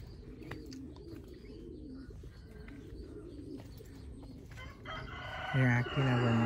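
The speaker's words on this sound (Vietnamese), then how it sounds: "Quý vị có nghe gì không? Tiếng chim kêu." Birds call among the trees of a lemon orchard on a Vietnamese farm, chirps scattered through a steady outdoor background, with a louder nearby fowl-like crow or coo near the end.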